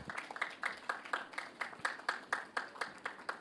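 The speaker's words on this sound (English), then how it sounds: "Please give him a round of applause." Audience applause at a World Productivity Day awards ceremony in Jamaica: a quiet, steady patter of hand claps with a regular rhythm, slightly distant, lasting a few seconds with no voices.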